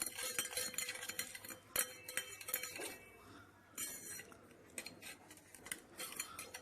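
A metal spoon stirs sugar into water in a glass beaker, with irregular clinks and scrapes against the glass, near and fairly quiet, some sharp taps standing out among softer swirling rattles.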